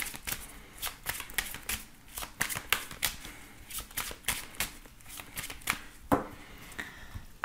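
Lenormand oracle cards are shuffled by hand, a rapid run of crisp papery riffles and flicks in irregular bursts, close and clear with no speech.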